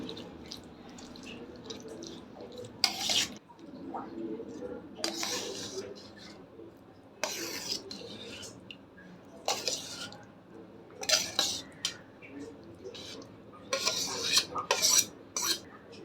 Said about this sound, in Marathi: आता हा तडका आहे तो या कोशिंबीर टाकूया आणि मिक्स करायचं आहे